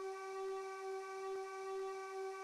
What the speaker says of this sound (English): Dave whistled that he was ready